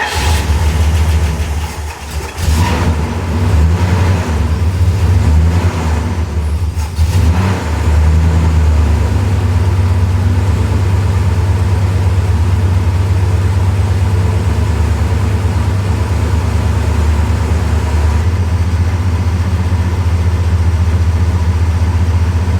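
A 1969 Plymouth Fury III V8 cranks and starts with a loud, rough burst, then settles into a steady, close, rumbling idle that runs evenly for most of the clip with no talk.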